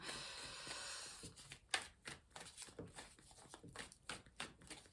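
Tarot cards are shuffled by hand in a series of soft, quick papery riffles and slaps. The sound is close but quiet, with no talking.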